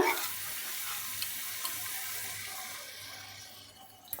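Spice paste sizzles steadily in hot oil in a pan while rui fish curry is cooked, a continuous close crackling hiss with no talk.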